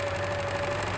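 An overlocker sewing machine runs with its presser foot left up, giving a steady mechanical hum and rapid knocking whir, close and continuous for about a second with no talk.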